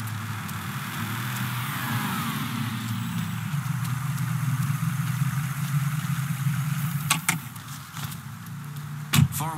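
A car engine in Mafia 3 idles with a steady low rumble, a brief rev swelling near the start, and a few sharp clicks and knocks toward the end.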